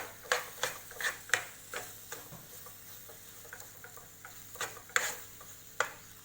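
A spoon stirs crushed dal mixed with cardamom powder in a pan, giving sharp, irregular scraping clicks that come close together, then with short pauses, over a soft, quiet background.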